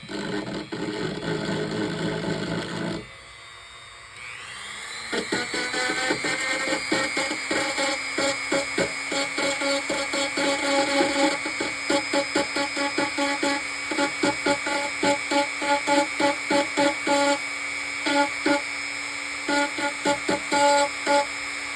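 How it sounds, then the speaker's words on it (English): A Dremel rotary tool grinds on a 1/350 scale K'tinga plastic model. The high whine of the motor is heard up close and pulses as the bit touches the plastic over and over, after a short quiet gap near the start. "that is pretty much the end of the Dremel part"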